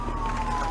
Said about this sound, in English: I hope you can't hear those sirens in the background.